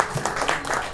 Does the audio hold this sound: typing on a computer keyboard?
no